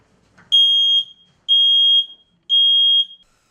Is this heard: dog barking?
no